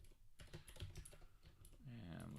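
Rapid, close clicking of typing on a computer keyboard, with someone talking quietly underneath and the keystrokes giving way to his voice near the end.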